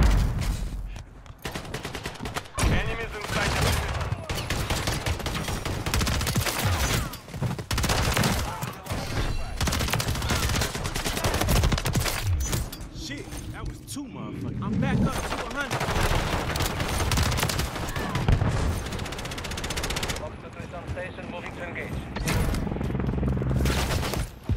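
Dense, sustained bursts of HRM-9 submachine gun fire from a Modern Warfare 3 match, loud and near, with rapid overlapping shots and thuds filling nearly the whole stretch, a few short lulls between volleys.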